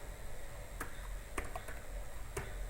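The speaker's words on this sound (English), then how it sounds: "So to get that I'm going to type session" Computer keyboard being typed on, a few sparse key clicks at an unhurried pace, close and fairly quiet over a steady background hiss with no talking.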